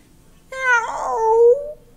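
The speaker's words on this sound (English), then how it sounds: "Lucky meows one more time." One clear cat meow, close and fairly loud, a drawn-out call of about a second that falls in pitch as it ends, with quiet before and after.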